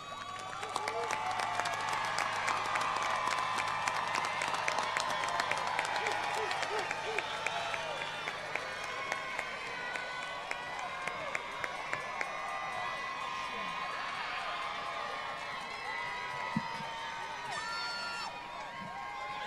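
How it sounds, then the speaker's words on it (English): A large graduation crowd at Oakcrest claps and cheers for a long, sustained stretch, dense applause with scattered whoops and shouts rising through it and people talking and calling out amid the noise. "Give a round of applause, give a wave, blow a kiss to the people that matter to you"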